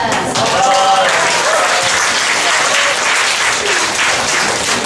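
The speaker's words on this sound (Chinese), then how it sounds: "我们再次掌声感谢叶荣的分享" Audience applause fills a hall after a church-group talk, steady and loud throughout, with faint voices mixed into the clapping.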